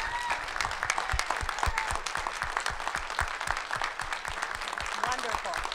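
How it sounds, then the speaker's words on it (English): A church congregation applauding veterans, brisk, close clapping from many hands in a steady patter that continues for several seconds, with a voice briefly heard near the end. "We would like to acknowledge you with a round of applause for your service"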